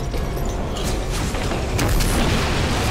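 A big film explosion from the war movie Battle of Los Angeles, a dense, sustained booming rumble that fills the whole stretch without pause and swells slightly toward the end.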